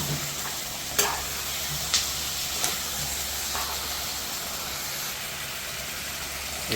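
Cumin, black pepper and dried red chilli paste fried with onions in a pan, a dense steady sizzle with a few sharp stirring knocks, close and without speech.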